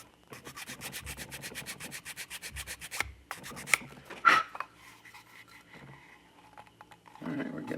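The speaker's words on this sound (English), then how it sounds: "I don't want to grind too fast." A soft vinyl model kit part is ground slowly with a rapid, even rasping pulse for about three seconds, then a few scattered scrapes and a louder handling clatter follow, ending in a low rumble.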